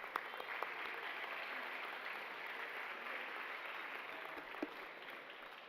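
Steady applause from an audience at a school awards evening, honoring the 2022 cheerleading squad; even, continuous clapping heard from a distance, fairly faint, with a few sharper claps standing out.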